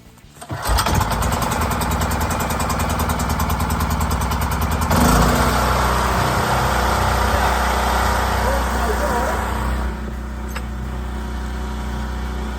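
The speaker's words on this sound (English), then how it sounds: "Another little demonstration of starting up this generator now." Gas generator with the choke on being started: a brief cranking pull, then the engine catches and runs at a steady loud drone that settles slightly lower near the end, close by with no talk over it.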